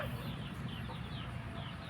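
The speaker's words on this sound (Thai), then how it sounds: "ทองดำที่ผมติดตามนะครับเป็นไก่เป็นไก่จ่ายลูก" A Thai fighting rooster clucks close by in a short burst against a dense, noisy farmyard background.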